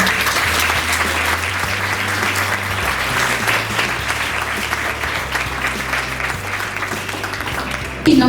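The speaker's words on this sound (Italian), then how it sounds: "possiamo fargli un grande applauso per questo impegno." Audience applause at a Miss Earth Italy beauty pageant at a Venice hotel, a loud, steady wash of clapping over low background music tones, ending abruptly.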